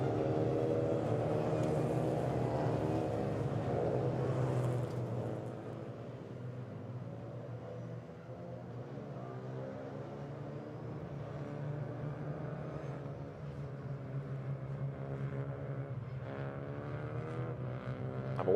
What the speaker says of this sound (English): the cars now turn their way up into the Spitzkehre